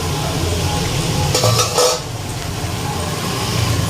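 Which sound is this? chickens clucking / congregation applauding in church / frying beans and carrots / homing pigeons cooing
frying beans and carrots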